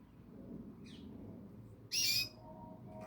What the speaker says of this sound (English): It's a canary.